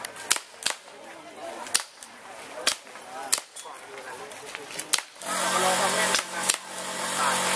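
Toy guns snap off sharp popping shots at targets at a night market stall in Chiang Mai, about a dozen irregular cracks under a busy crowd murmur, with talk nearby.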